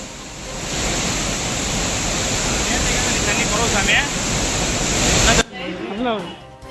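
The flooded Suruli and Meghamalai waterfalls in Theni, swollen after rain, give a loud, steady rushing roar of pouring water. Near the end it cuts to a quieter scene where voices can be heard.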